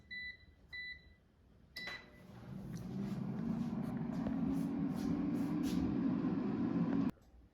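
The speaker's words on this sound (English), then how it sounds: "So now let's put the air fryer basket in the air fryer" An air fryer basket slides into the air fryer with a short clunk, followed by a few beeps and a steady, moderate fan whir that runs for several seconds before stopping abruptly; a few faint beeps precede it.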